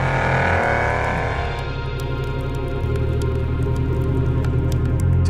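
A 2015 Mercedes S63 AMG coupe gives a loud, deep exhaust note as its engine revs and shifts, the pitch dropping and climbing again through a continuous, close roar.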